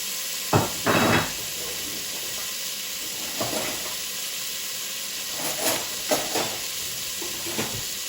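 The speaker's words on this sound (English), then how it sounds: "we just stir that around, saute them." Vegetables sauteing with celery seed in a pan, a steady frying sizzle and hiss under occasional spoon stirs and scrapes, close and fairly loud, with no voices.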